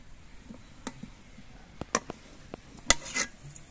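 A cooking pot of mashed taro being lifted off the stove, heard as a few sharp metallic clinks and scrapes of utensils and pan over a quiet background, with no speech.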